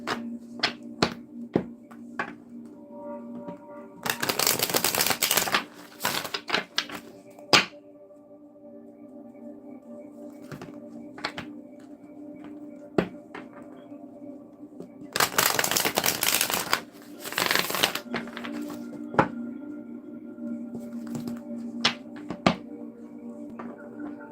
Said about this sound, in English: I'll pull some of these cards, these oracle cards.